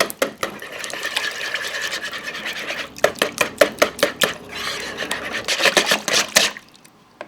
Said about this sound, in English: You want to mix this until all well incorporated.